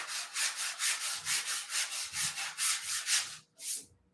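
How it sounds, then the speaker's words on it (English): Hand sanding scrubs a spot before priming and painting in about a dozen rhythmic back-and-forth strokes, close and moderately loud. One final stroke follows after a brief pause, with no talking. "So I just found a spot right here that I'm going to sand."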